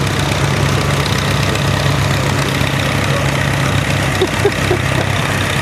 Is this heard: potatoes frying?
no